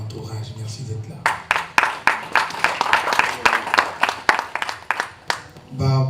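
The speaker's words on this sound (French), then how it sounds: "quand vous applaudissez beaucoup là, je perds les mots." An audience at a book premiere applauds, with sharp, fairly close claps that come in uneven bursts and build to steady clapping. A voice speaks briefly at the start and again at the end.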